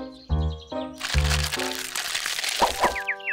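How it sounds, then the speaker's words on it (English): Cartoon baby birds from Bananas in Pyjamas cracking out of their eggs in a nest up in a tree, a brief burst of crackling and crunching shell sounds between bright musical tones and chirpy effects. "It was the sound of the baby birds coming out of their eggs."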